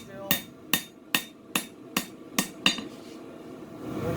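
A hammer strikes a steel knife blade being straightened, seven sharp metallic blows at an even pace of about two per second, close and loud, followed by a low rising hum.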